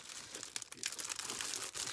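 A package from a big shopping haul of store purchases being torn open, with close, continuous plastic crinkling and tearing that rises and falls in quick bursts, no voices.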